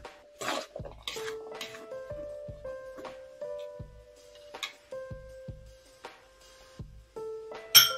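A spoon scrapes and clinks against a bowl while spices are stirred into chana chaat, giving a series of light, close taps with brief ringing tones, spaced irregularly over a quiet background.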